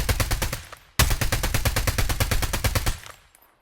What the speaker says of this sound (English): your gun will shake less while firing, so fire animation looks smooth on 0 value